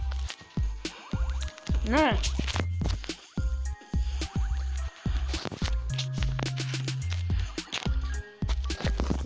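Soul Knight game audio plays rapid, punchy damage effects and short chiptune blips in quick bursts, mixed with music tones while a voice speaks over it.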